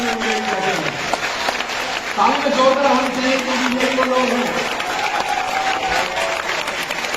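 Crowd applause for a company team, steady clapping running beneath someone speaking in Hindi throughout.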